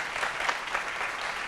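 A studio audience at a French-language show applauds in a short, even stretch of clapping heard at moderate distance, with no voices over it.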